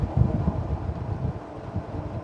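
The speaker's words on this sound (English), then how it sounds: "But today is a little windy." Steady wind buffeting the microphone while riding a 2025 Aniioki A8 dual-motor electric bike outdoors on a windy day, a continuous low rumbling roar with gusty swells and no talk.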